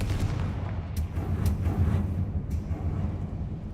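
An explosive spell booms in Hogwarts Legacy gameplay, with heavy low rumbling blasts and a few sharp cracks rolling continuously over a dense, loud battle din.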